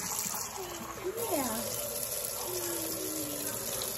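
Warm water pours and splashes over a young child's hair during a shampoo, a soft steady trickle with a child's whimpering cry rising over it and an adult speaking gently nearby.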